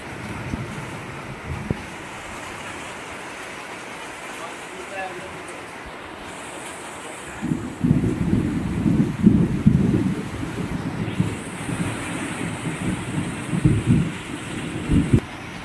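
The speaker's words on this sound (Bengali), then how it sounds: "এইমাত্র আবার নামছে বৃষ্টি, যেটা দেখতে পাচ্ছ" Steady rain pours down at night, wind gusting through, with low rumbling thunder swelling midway and continuing in bursts.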